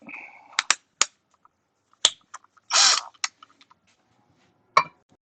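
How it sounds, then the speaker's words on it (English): Screws are removed from a Gotway Monster electric unicycle, heard as sharp metallic clicks and taps, one short rasping scrape and scattered small handling noises in a quiet room. "And there was Loctite on all of these screws that I just took out."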